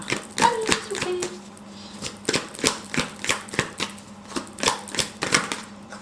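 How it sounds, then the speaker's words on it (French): Oracle cards are shuffled and drawn by hand, with a rapid run of crisp slapping riffles and flicks, close and fairly loud, forming an irregular clattering rhythm. "Une dernière carte, une dernière carte. Alors, on a la carte."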